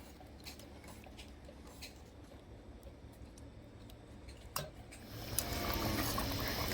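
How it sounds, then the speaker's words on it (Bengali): Water pours into a pot of braising desi chicken curry, a soft sizzle and bubbling rising into a steady, fuller gush of liquid near the end, close by in a home kitchen. "এবার আমি কষানো মাংসের মধ্যে জল দিয়ে 15-20 মিনিট মতো ফুটিয়ে"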